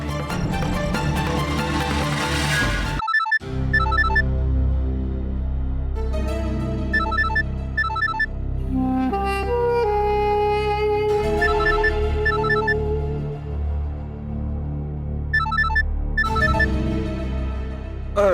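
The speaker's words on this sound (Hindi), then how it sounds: "अरे ये तो हमारा भाणजा को फोन है।" A mobile phone ringtone plays loud and steady as a repeating melodic tune, beginning with a brief pause and then looping for the rest of the stretch, with no talk over it.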